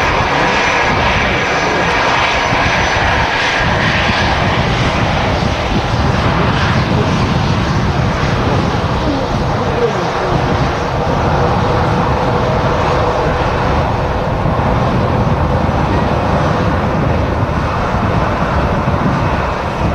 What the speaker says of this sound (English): And there goes the EasyJ 320 from Geneva.